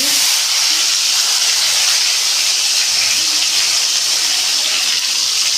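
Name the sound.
mustard and fennel seeds spluttering in hot oil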